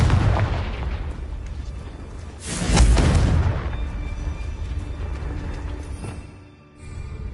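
A loud, booming burst from the Confringo blasting curse in a Harry Potter video game swells midway through a steady rumble of background game sound, then fades back into the din.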